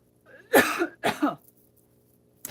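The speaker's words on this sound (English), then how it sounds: "And still enough lint for me to get the cough" Two sharp coughs in quick succession, close and fairly loud, followed by near silence and a faint noise at the end.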